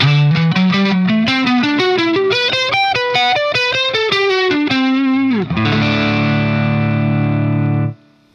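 Distorted electric guitar plays a quick, bouncy mixolydian run of single notes, then ends on a sustained ringing chord that fades out.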